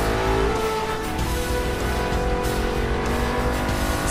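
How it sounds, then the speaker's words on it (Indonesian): A loud motorcycle engine roars steadily at full speed with tire noise, close and continuous throughout. "Terdengar suara motor dengan kecepatan penuh mendekatinya."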